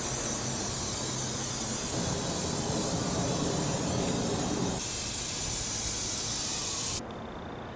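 Aerosol spray paint hissing steadily onto an upcycled chair made from two chairs, a continuous close, loud spray that changes tone partway through and then cuts to a quieter hiss near the end.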